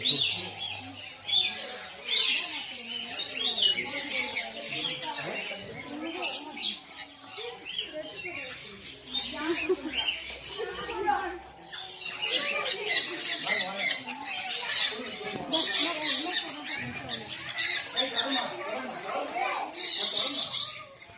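Birds at Fundera bird park in Yelagiri squawk and chirp in dense, busy bursts throughout, loud and close, with people talking and children's voices mixed in beneath.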